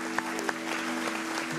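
Studio audience applause on an Italian live TV show, a steady, dense patter of many hands under a faint tonal hum, with a few sharper claps standing out, no talking.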